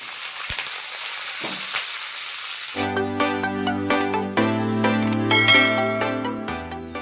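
An ingredient for a crispy homemade palya hits hot oil in a pan and sizzles loudly for a few seconds, then the frying hiss continues faintly beneath a burst of tuneful music.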